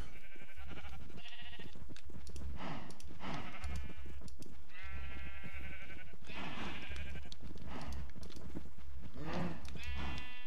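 Sheep bleat again and again in Minecraft, wavering calls spread across the scene at varying distances, some overlapping, with no voices over them.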